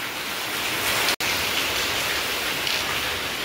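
Sudden rain in Goa pours down as a dense, even hiss, loud and close, with a brief cut in the sound early on.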